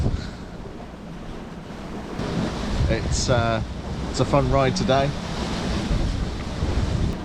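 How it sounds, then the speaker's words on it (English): Sea waves around a metre high and gusting wind aboard a sailing boat, a steady rushing wash with wind buffeting the microphone, while a person talks briefly over it. "Waves are about, oh, I don't know, a metre."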